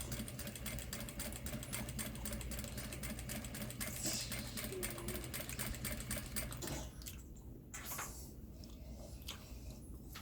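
Sewing machine stitching steadily along the edge of mesh fabric, running continuously at close range before slowing and stopping near the end.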